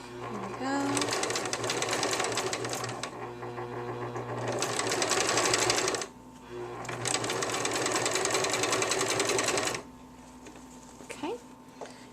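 Home sewing machine running shirring rows on a shirred top, sewing in two long steady bursts of rapid mechanical stitching with a short pause between, close and fairly loud, ending in quieter handling noises.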